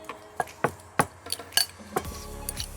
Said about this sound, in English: let's just mash this a little bit